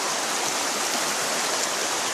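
Water rushing steadily in a creek that runs under a bridge, a continuous loud broadband roar heard close by with no voices.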